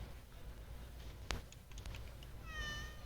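A cat meows nearby, one rising and falling call near the end over quiet room noise, with a sharp click a little earlier.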